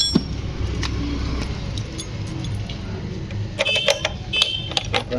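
Keys jangle at the ignition of a Honda Shine motorcycle, with light metallic clinks over a steady low background hum that cluster into a busier bright rattle near the end.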